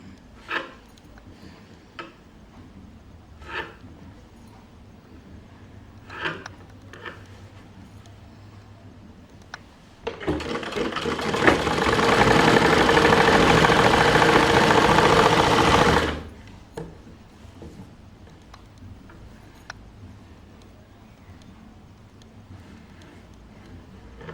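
A sewing machine stitching a thick blouse joint slowly: scattered mechanical clicks and ticks, then a steady run of stitching for about six seconds that stops abruptly, followed by more faint clicks.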